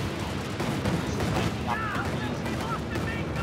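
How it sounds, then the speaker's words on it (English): Dense, continuous rifle barrage from infantry firing at point blank range in the WWII strategy game Company of Heroes 2, crackling shots layered over battlefield rumble with brief whistling effects, loud and unbroken throughout. "So nice point blank rifle barrage"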